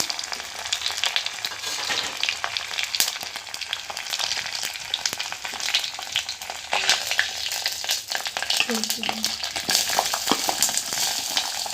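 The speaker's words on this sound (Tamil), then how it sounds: "பிரிஞ்சி இலை, சோம்பு, பட்டை, கிராம்பு, ஏலக்காய், அப்புறம் வெங்காயம், பச்சை மிளகாய் போட்டு இது பண்ணிக்கலாம்." Whole spices such as bay leaf, fennel, cinnamon, cloves and cardamom fry in hot oil with onion and green chili, a dense, steady sizzle with scattered pops and crackles lasting throughout, close and loud, with no voices.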